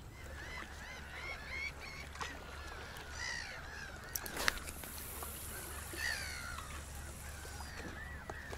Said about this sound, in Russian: Чайки урут.